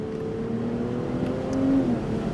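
A 408 hp convertible sports car with its roof down accelerates hard through paddle-shifted gears, the engine note rising loud and steady and close by with no talking.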